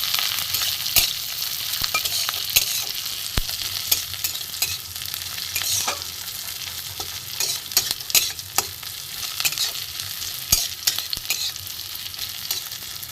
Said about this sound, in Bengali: পেঁয়াজটা আমি ভালো করে ভেজে নেবো